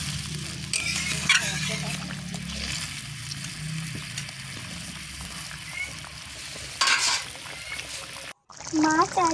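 Spicy Bengali fish curry with fish and fish roe comes to a boil in a pan, bubbling and sizzling with stirring clatter, while a voice talks over it and a brief pause breaks the sound near the end.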